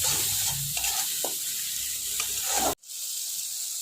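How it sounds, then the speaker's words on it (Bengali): Ginger-garlic masala fries and is stirred in a pan while cooking a spicy Bombay duck (lote fish) curry, giving a steady close sizzle with scraping strokes that suddenly cuts out, then resumes more quietly. "মশলাটা ভালোভাবে কষিয়ে নেব যতক্ষণ না মশলার মধ্যে থেকে কাঁচা গন্ধটা যায়"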